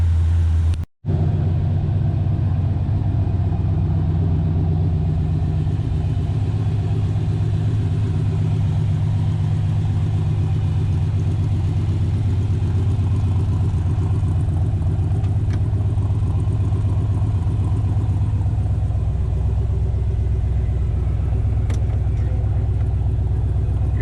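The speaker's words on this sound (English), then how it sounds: "Get the car moved out into the center of the shop so I can do a more appropriate walk around" A 1967 Corvette's 327-300 V8 rumbles steadily at idle while the car is moved inside a shop, loud and close with a deep, even burble that holds for the whole stretch.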